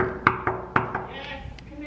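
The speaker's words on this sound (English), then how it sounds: "I'm about to go knock on their door and see what they're doing." Knuckles rap on a hotel room door in a loose series of about five or six sharp knocks, close and distinct, with a faint background hum.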